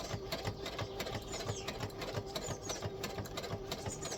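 A sewing machine stitches fabric fed through a Clover tube maker sitting against the presser foot, its needle mechanism chattering in a fast, steady rhythm at low volume.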